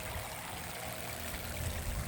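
Water trickles steadily through a newly built koi pond waterfall not yet filled with stone, giving a continuous close splashing flow with no voices.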